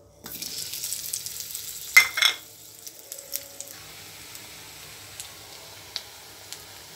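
Chopped onion goes into hot oil in a wok and sizzles. A sharp burst of crackling is followed by a softer, steady frying hiss with occasional faint ticks.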